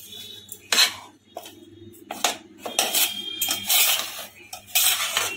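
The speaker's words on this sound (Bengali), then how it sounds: "হাতায় করে আমি নেড়ে চেড়ে নেব" A metal ladle stirs and scrapes sweetened, salted pulao rice in a pot, producing repeated clattering scrapes and knocks in irregular bursts, close and fairly loud against a quiet kitchen hum.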